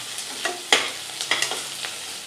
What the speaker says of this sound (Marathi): आता आपण त्याच्यात आलं लसूण पेस्ट घालूया आणि आलं लसूणचा कच्चेपणा जाईपर्यंत आता आपण फ्राय करून घेऊया